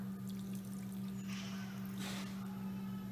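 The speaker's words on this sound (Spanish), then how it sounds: "Le vamos a agregar 1 taza de agua." A cup of water is poured into a pan of orange sauce for chicken. Two short, soft splashing bursts come over a steady low hum.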